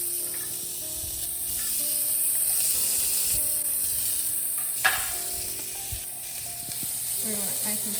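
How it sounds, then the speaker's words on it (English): Bacon hits a hot pan and sizzles in a steady hiss, with a few clicks and scraping knocks from cookware. "Nice big sizzle."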